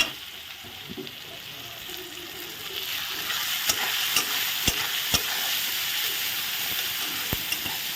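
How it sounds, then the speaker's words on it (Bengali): Spices frying in hot oil with onion, garlic and tomato, a steady quiet sizzle with sharp occasional clicks of a spoon stirring against the pan. "এখন এই তেলেই আমি মশলা দিয়ে দেবো, একটু ভালো করে ভেজে কষিয়ে নিচ্ছি"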